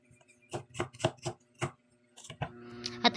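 Garlic chopped with a knife on a cutting board, a series of about six crisp, evenly spaced close chops, then a pause and some quicker handling noises.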